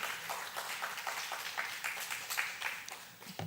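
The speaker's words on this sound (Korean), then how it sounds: "우리 아이들 갈 때 박수 한번 하겠습니다." A church congregation claps during a Sunday worship service, a faint, scattered patter of hands heard from a distance, with a low voice near the end.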